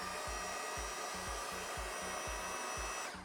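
An electric hoist lowering over a lifting clamp on a steel plate, a steady loud motor whir with a repeating low thump roughly twice a second, running throughout and easing off at the very end.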